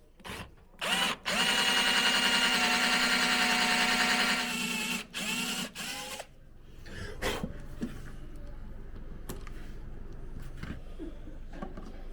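A high-pitched drill fitted with a tile drill bit whines steadily for several seconds with brief starts and stops in a boat cockpit, then cuts out, leaving quieter scraping and clicking handling noises.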